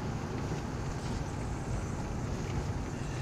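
Steady road and wind noise fills a car cabin while driving. The broadband rumble holds constant for a few seconds with no voices.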